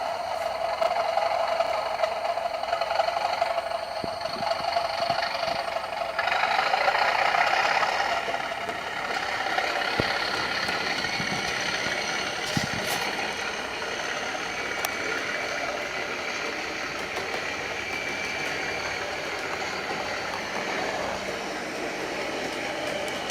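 A Bachmann Class 37 model diesel locomotive runs at full throttle around a test track, giving a steady mechanical whir and rattle that holds level throughout, with a few faint clicks and no talk.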